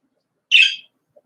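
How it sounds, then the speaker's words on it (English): A single bird call outdoors: one short, bright chirp sounds alone against silence, fairly loud and close, followed by a faint tiny tick. "I hear you, bird."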